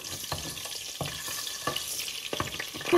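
Ginger and garlic paste blocks fry steadily in hot oil, a continuous close sizzle broken by several stirring scrapes at regular intervals, with no voices.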